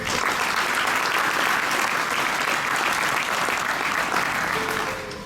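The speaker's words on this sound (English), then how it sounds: "Let's have one more big round of applause for these 4 outstanding young women" Crowd at the Miss Gibbon coronation gives a sustained, dense round of clapping that stays loud and even for about five seconds before tapering at the end.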